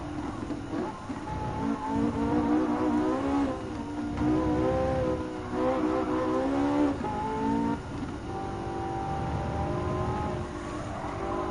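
A Porsche 918 Spider hypercar racing in Gran Turismo 7, its engine note climbing and falling through repeated gear changes, loud and close without pause.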